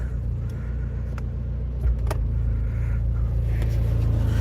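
A Toyota Tercel 4WD engine idles with a low, steady rumble close by, with faint clicks and small shifts in tone as it is run through the gears.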